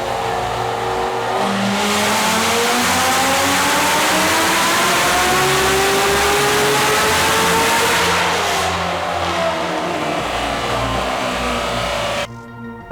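A Whipple-supercharged 2015 Corvette Z06 on a dyno pulls a long, loud wide-open run, its engine note climbing steadily in pitch, then easing off and dropping away near the end.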